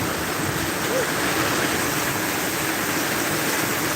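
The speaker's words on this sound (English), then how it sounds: "Look at this rain out here." Heavy rain pours down outdoors, a loud, steady, unbroken hiss of water that stays even throughout.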